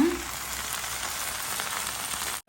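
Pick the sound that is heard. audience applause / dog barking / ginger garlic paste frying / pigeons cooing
ginger garlic paste frying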